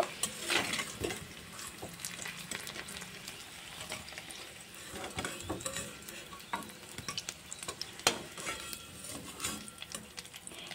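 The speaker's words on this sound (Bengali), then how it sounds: "আলুগুলোকেও লাল লাল করে আমি একটু ভেজে নেব" Potatoes fry in oil in a pan, a steady close sizzle broken by frequent scraping and stirring clicks of a utensil, with no voices.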